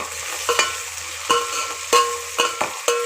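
Onions being sautéed for dum biryani, with recurring scrapes and stirs of a spatula against the pan about every half second, set over a low, steady sizzle. No voices are present.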